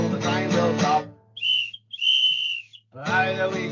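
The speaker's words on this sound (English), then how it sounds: "Blow the whistle, train will stop." A single clear whistle is blown twice, in two sustained high tones, during a children's train song in a special educational needs music session, between passages of sung and played music.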